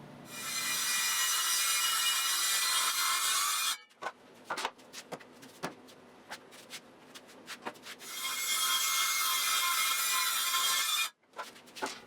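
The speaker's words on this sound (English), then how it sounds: "and then I used my track saw" A track saw cuts plywood pieces for a small roof in a woodworking shop. It gives two loud, sustained high-pitched cutting bursts separated by a few seconds of quieter handling clicks and knocks.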